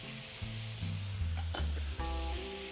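Onion added to a pan with browned mushrooms sizzles steadily in hot fat, a dense close crackle with small bubbling pops, no talking.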